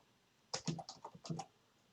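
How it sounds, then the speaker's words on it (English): An email address typed on a computer keyboard: a short, quiet run of about a dozen soft, close key clicks in two quick bursts, with near silence around them. "typing in my email address"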